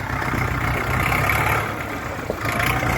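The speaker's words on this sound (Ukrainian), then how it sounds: "Чотирьохциліндровий дизельний двигун" A four-cylinder diesel tractor engine idles steadily nearby, a constant rumbling chug with mechanical clatter and no pauses.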